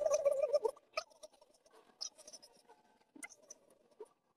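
A voice imitates a turkey with a run of quick gobbling chirps and short bursts, loudest at the start and then scattered, close and fairly quiet.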